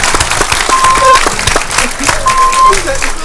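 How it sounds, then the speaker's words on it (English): Studio audience applauding on a radio quiz show, a dense wash of clapping that swells and continues throughout, with a voice speaking briefly over it. "on that rapturous applause note"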